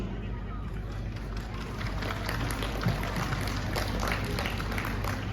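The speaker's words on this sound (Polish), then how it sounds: "Wielkie brawa" Steady applause from a crowd after a speech at a harvest festival ceremony at a Piast castle, a dense continuous patter of clapping at moderate distance lasting throughout.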